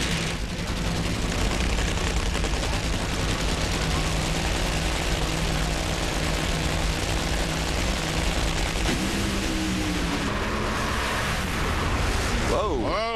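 A Bob Tasca funny car explodes during drag racing qualifying at the Indy US Nationals in 2009, a dense roaring blast of engine and crowd noise from a distance, with a commentator talking over it throughout.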